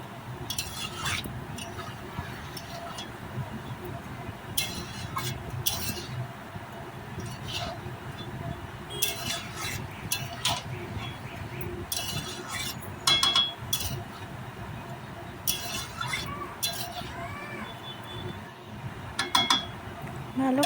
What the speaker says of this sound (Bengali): চাল আর ডালটাকে ভালোভাবে ওই মশলার সাথে মিশিয়ে নিচ্ছি।